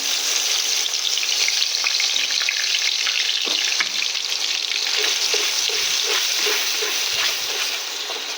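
Onion-garlic paste with clove, cardamom and cinnamon fries in hot oil for an egg and potato curry, a loud, even sizzle with occasional stirring clinks and scrapes, continuous and close.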